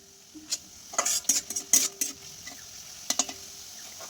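Spice paste is sautéed with a splash of water for an egg curry, quiet simmering broken by sharp metal spoon scrapes and clinks against the pan in quick bursts, then a short pause and two more strokes; no talking.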